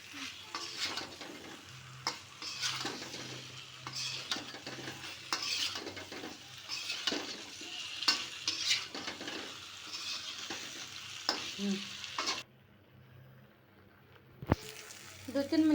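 Eggs and new potatoes are stirred in a frying pan, a continuous sizzle with repeated scraping and clinks of a utensil on metal, briefly dropping to quiet before a sharp knock.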